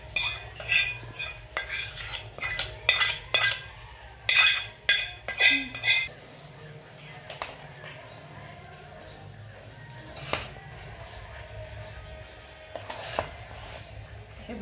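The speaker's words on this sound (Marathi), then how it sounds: "हे तेल आता मिक्स करून घेते ह्याच्यात ओतून." Oil poured into spicy mango pickle and stirred in with a spoon, giving bursts of clinking and scraping against the vessel early on that thin out to sparse stirring, with a voice talking over it.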